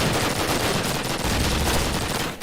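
Dense, continuous gunfire fills a competitive first-person shooter match in a tournament grand final, a loud unbroken crackle of rapid shots with a brief dip near the end.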